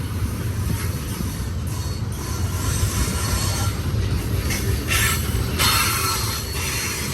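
A San Joaquin Valley Railroad freight train with locomotives 1825, 1826 and 1829 running on the main track: a steady, close rumble of rolling wheels with intermittent high metallic squeals over about seven seconds.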